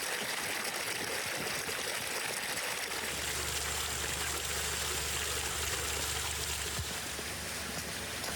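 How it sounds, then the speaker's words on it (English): Water runs steadily while bulgur is rinsed for a side dish, a continuous loud rush and trickle that deepens into a fuller low rumble partway through. "Now we move on to rinsing bulgur, which will be the base for our side dish with the ribs."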